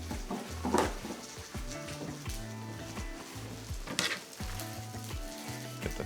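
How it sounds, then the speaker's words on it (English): Turkey donair meat sizzles steadily in a hot pan as it heats up, a close, continuous crackling fry broken by a few louder pops and the light scrape of stirring. "Donair meat heating up."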